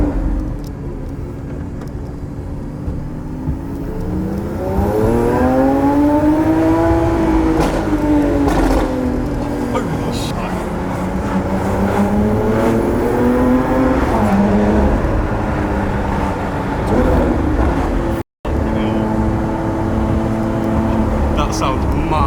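A brand-new Lamborghini SVJ revs hard while driving on a slippery road, its engine note sweeping up and down in repeated climbs, loud and close, with people talking over it throughout.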